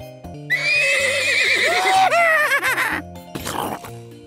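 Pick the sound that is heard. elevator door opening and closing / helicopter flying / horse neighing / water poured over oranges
horse neighing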